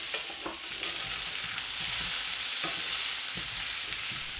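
Onions and Brussels sprouts searing in a pan over high heat, a steady close sizzle broken by the scrape and clatter of stirring.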